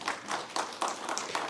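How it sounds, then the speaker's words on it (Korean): A church congregation gives a round of applause for the choir, sounding as a light, fairly quiet patter of many hands clapping in uneven bursts with no voices over it. "박수 한 번 더"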